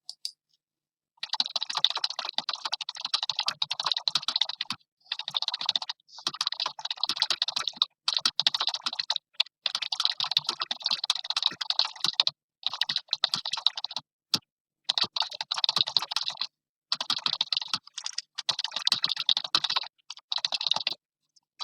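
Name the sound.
typing text on a computer keyboard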